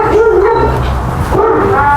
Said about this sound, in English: So here comes another dog.